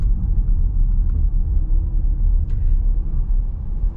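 A 2021 Dodge Durango R/T's engine drones as a steady, loud low rumble inside the cabin while the SUV drives in normal mode, with a faint shift in tone midway as it downshifts.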